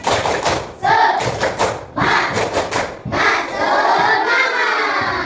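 A classroom of schoolchildren performs a rhythmic spirit clap, tepuk semangat: loud, close bursts of patterned group clapping alternate with the class shouting chants in unison.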